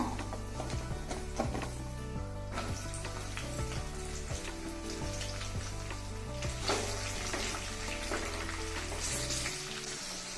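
Broad beans (chikkudukaya) frying in a pan for pickle give off a steady sizzle beneath a layer of music, with scattered clinks and stirring taps; no one speaks.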